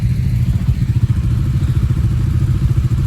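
Motorcycles ride along a road, their engines giving a loud, steady rumbling drone with rapid pulsing throughout, no voices.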